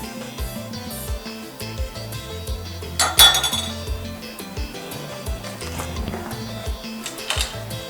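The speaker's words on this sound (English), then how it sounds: "make sure with your spoon that you're scooping out all the last bits of that condensed milk" A spoon clinks and scrapes against a blender jar while scooping out the last of the condensed milk for Haitian kremas, a run of irregular close metallic taps with one louder clatter midway.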